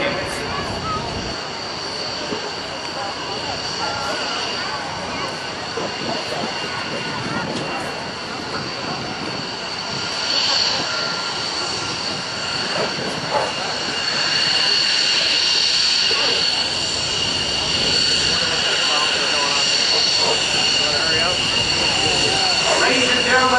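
Steady loud jet engine roar with a high whine, holding constant and swelling slightly toward the end, as an F-22 Raptor fighter rolls along a runway after landing at an airshow.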